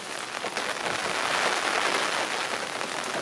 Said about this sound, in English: it is much stronger now, and the rain have come back